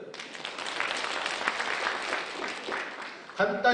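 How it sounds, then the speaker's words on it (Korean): Audience applause fills a Korean lecture hall during a class on admissions officers and debate education, a steady, dense patter of many hands that fades toward the end as a voice begins to speak. "박수 한번 쳐주세요"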